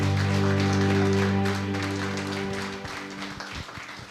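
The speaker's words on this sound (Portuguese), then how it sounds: "Com palmas ao Senhor," A church congregation claps for the Lord during a worship service, starting under a sustained held organ or keyboard chord, then the music drops away and the dense, steady applause carries on by itself.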